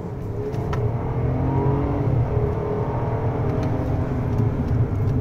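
Mercedes-Maybach S680 with a 6-litre V12 biturbo pulling away under throttle, a steady, loud low engine roar sustained throughout with no talk.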